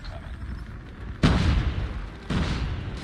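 Airstrike explosions in Call of Duty Mobile, two heavy booming blasts about a second apart that land over a rumbling battlefield background.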